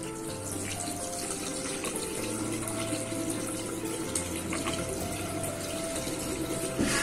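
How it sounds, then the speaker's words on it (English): Water runs steadily from a tap as a constant, even splashing hiss, close and continuous for the whole stretch, with no talk over it. "why are you wasting the water? Close the tap."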